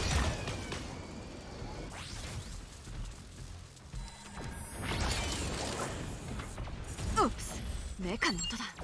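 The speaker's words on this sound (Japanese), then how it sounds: "メカの音だ。" Mech machinery in the video game Super Mecha Champions: a dense mix of clanking, whirring mechanical movement, whooshes and metallic impacts, with busy overlapping game effects throughout and no clear speech.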